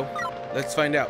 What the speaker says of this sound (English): I don't know if you can hear my dog in the background.